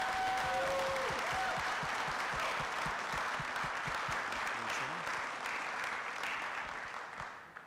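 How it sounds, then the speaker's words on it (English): An audience at a city council meeting applauds for an honoree, dense steady clapping that holds strong for several seconds before tapering off at the end, with faint voices mixed in. "So please give Donna Lynn a round of applause."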